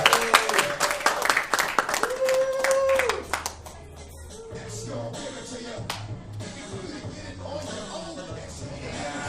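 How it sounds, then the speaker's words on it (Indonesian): A few people clap at a company convention in a brief, sparse burst of hand claps, close and uneven, that fades after a few seconds into murmuring talk and room noise. "Kita berikan tepuk tangan."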